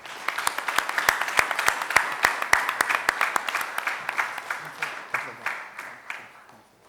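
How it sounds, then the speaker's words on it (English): An audience at a business chamber session gives a round of applause for grant-funded projects, with distinct close claps standing out from the crowd before the clapping tapers off. "I would ask that we all provide a round of applause in support of these projects."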